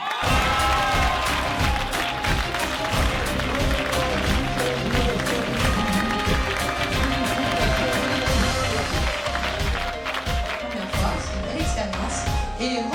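A large audience applauds and cheers for the winner of a student innovation challenge, steady dense clapping with crowd noise filling the whole stretch, loud and continuous throughout.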